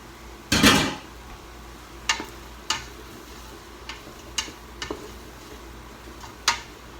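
About four Red Bliss potatoes going into a pot of beef stew: one loud thudding splash, then a string of sharper clacks and knocks spaced a second or so apart, all close by with no talking.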